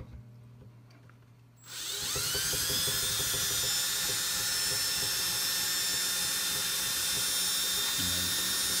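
A power drill spins up and runs steadily, winding a steel guitar string onto the tuner post of a slot-head acoustic guitar, with a high whining motor tone after a brief quiet start.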